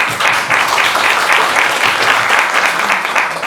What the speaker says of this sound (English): so we'll give her a round of applause first.